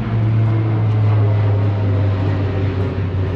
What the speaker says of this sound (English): There's airplanes.